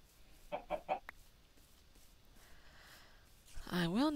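Chickens clucking in a Minecraft modpack game, three short clucks in quick succession, then a quiet stretch, and a person talking at the end.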